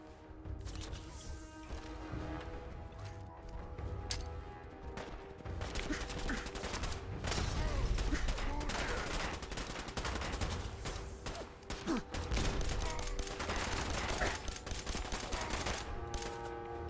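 Rapid bursts of automatic gunfire from a hard-recoiling gun in Fallout 4, sustained loud volleys with brief pauses and crashing impacts, close and dense throughout.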